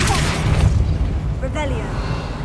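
In Hogwarts Legacy the Bombarda spell goes off as a single loud, deep boom that rumbles and fades, with a voice speaking just over it.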